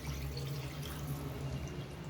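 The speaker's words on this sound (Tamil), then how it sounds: "இப்போ நான் வந்து 2 டம்ளர் தண்ணி ஆட் பண்ணுறேன்" Two small tumblers of water are poured into a simmering fish curry in a kitchen, giving a soft, steady splashing trickle close by, low and continuous without talk.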